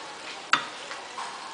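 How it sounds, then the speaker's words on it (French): Minced meat sizzles softly while browning in a pan, with one sharp stirring scrape and quieter scrapes after it. "vous voyez donc la viande qui est en train de revenir tout doucement"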